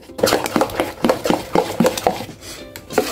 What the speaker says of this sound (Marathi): आता हे एकाच डायरेक्शनने 2 मिनिटं चांगलं फेटून घ्यायचंय